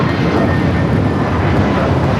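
An airplane arriving at LAX, a loud, steady roar of jet engines filling the whole short stretch with no break or talk.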